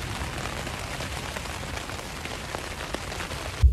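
Steady rain falls on a hike across Scotland, a dense, even patter of drops striking nearby surfaces, close and continuous with no voices.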